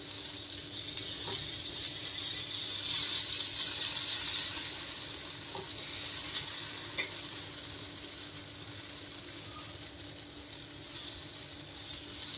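Tacos roast in a hot pan with a continuous close sizzle and crackle, occasional small pops and spatters rising out of the steady frying hiss, with no talking.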